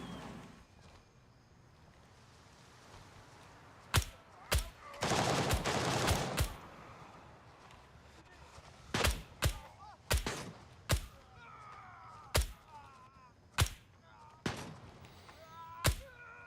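Rapid bursts of video game gunfire, about a dozen sharp loud shots spaced irregularly, with one sustained stretch of continuous firing, played slowly over a low background hum.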